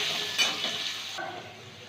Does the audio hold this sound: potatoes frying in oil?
yes